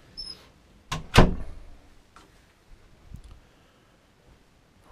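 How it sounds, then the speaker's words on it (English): A condo front door shuts with a sharp, close thud and a click, followed by a few faint knocks and rattles in a quiet room. "that was front door"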